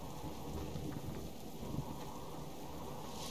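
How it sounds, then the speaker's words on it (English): A thunderstorm in the survival game Subsistence pours steady rain while dull thunder rumbles low underneath, a constant, even wash of weather noise with no voices. "the storm doesn't make anything any easier for us"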